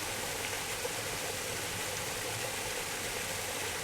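Steady broadband rush of a waterfall in an alligator habitat at Gatorland in Orlando, a continuous, even wash of falling water heard at a moderate distance with no voices.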